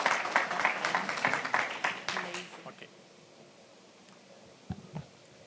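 Audience applause for a presenter at a satellite conference, a dense burst of clapping for about two and a half seconds that fades out into quiet room tone, with a couple of faint thumps near the end.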